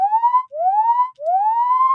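A synthesized siren made in the Vital software synth, three rising electronic sweeps that each glide up and hold, separated by brief gaps, loud and clean with no other sound.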